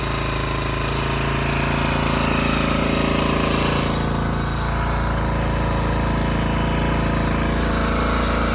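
A Honda XR400 dirt bike engine idles steadily and loudly up close after getting wet, a continuous rumbling putter that holds running with no throttle.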